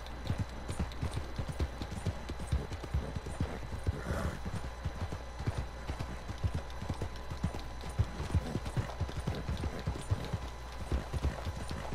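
Horse hooves in the open-world Western video game Red Dead Redemption 2, a steady fast clip-clop rhythm of galloping close by for twelve seconds, with a brief whinny partway through and low ambient background.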